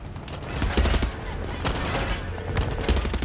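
A mounted machine gun hammers away in Far Cry 6, loud rapid bursts with heavy low thumps, cut by brief pauses over a busy battle din.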